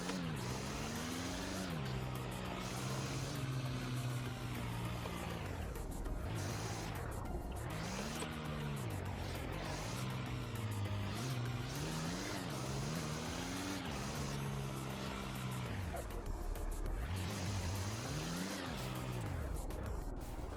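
Game car engine in a roleplay driving game rising and falling through repeated revving surges at full throttle, steady and close, with no talk over it.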